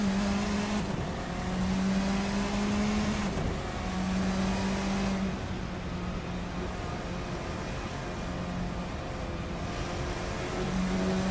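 Formula 4 race cars in Assetto Corsa at Townsville run with a steady, loud engine drone, pitch dipping and climbing through gear changes and braking, several cars close together, no talking.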